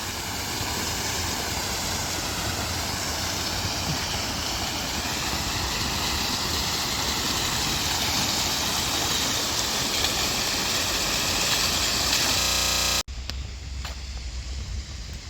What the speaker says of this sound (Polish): jak widzicie wodospad się włączył, więc idę Wam go nagrać